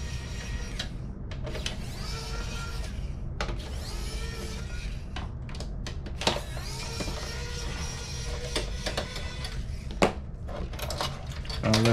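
A Torx T8 screwdriver backs out screws from a PS4 Pro, giving repeated small ratcheting clicks and scrapes up close, with scattered sharp taps and faint voice in the background.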